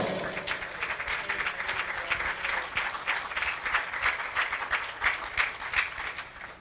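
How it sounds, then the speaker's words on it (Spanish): A church congregation claps together in a steady, moderately loud burst of applause with a pulsing rhythm, swelling slightly toward the end before fading, with no voices rising above it. "Denle un aplauso al Señor."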